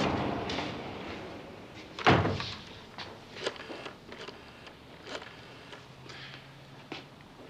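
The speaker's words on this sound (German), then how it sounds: "Frank, die beiden sind eben zur Tür raus" In a 1986 German crime drama, a door closes with one solid thump as two people leave, set among faint room noise and a few soft knocks and rustles afterward.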